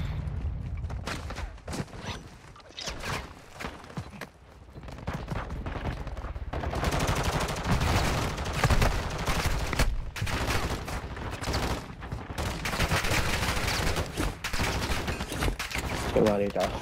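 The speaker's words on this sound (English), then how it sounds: "Taking effective fire." Video game gunfire, with rapid bursts of automatic shots and a sustained fusillade that grows dense and loud after a quieter start, with occasional distant voices underneath.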